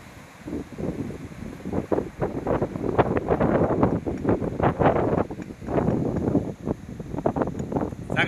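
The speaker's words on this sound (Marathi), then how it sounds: "वारा पण सतत आहे." Gusting wind buffets the microphone outdoors on the Konkan coast during a fishing outing, a steady low roar that swells in bursts, with faint surf behind it.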